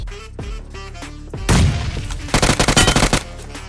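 Gunfire in a battle royale video game: a loud burst of shots around the middle, then a rapid string of evenly spaced shots toward the end, over steady game music.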